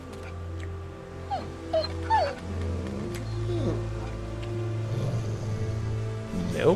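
A dog in The Walking Dead video game whimpers and yelps in short, high whines over a low game ambience, with growl-like noises mixed in.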